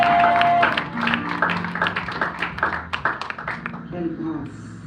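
Church congregation clapping together to acclaim God during a worship service, a dense burst of many hands applauding at close range, steady and loud, then tapering slightly near the end.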